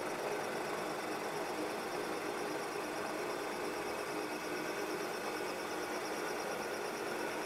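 Bridgeport milling machine slowly cutting a keyway, giving a steady, dense mechanical whir and hum that holds constant throughout with no pauses or voices.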